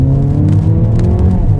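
A 2015 Mercedes-Benz CLA 45 AMG with a turbocharged four-cylinder engine pulls under throttle, a loud, steady engine drone heard close and alone with no talking.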